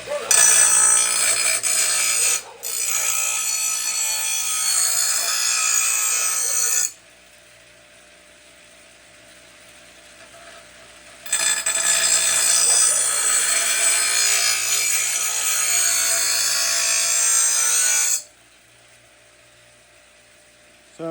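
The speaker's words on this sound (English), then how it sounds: "we can just take that, hit it on the grinder, and we'll be in good shape" A bench grinder sharpening a dull blade from a Troy Bilt TB110 lawnmower, a loud, steady, high-pitched grinding whine in two long passes with quieter motor hum between them, close and without talk.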